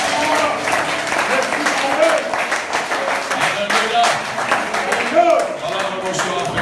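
A church congregation applauds and claps together in praise during a worship service, a steady dense wash of clapping with voices mixed in throughout.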